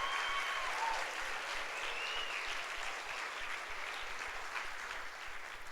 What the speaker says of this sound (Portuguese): Pode aplaudir que é para o Senhor.